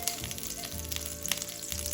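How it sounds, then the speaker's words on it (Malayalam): Garlic fries in a spoonful of oil in a hot pan, giving a constant close sizzle and light crackle with no voices. "വെളുത്തുള്ളി ഇടാം."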